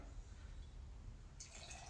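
Gin poured into a glass, a faint liquid trickle that brightens partway through into a clearer filling splash, quiet and close with no talk.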